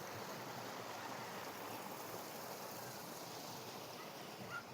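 Water from the Narmada flowing into a dry village riverbed in summer, a steady broadband rushing wash that holds evenly throughout with no voices.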